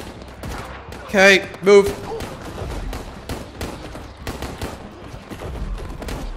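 Dense gunfire rattles on continuously in Paint the Town Red during an assault on German D-Day beach defenses, bursts of shots layered over one another while someone speaks briefly over the noise.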